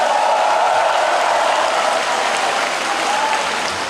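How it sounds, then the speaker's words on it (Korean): Dense, sustained applause from a large crowd at a Democratic Party joint campaign rally in Chungcheong, loud and even throughout, the massed clapping filling the space without a break. "여러분 큰 박수 부탁드립니다"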